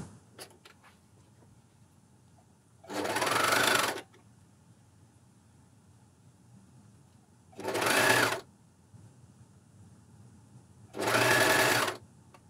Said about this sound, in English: Because we're cover stitching the curve, it's good to go a bit slower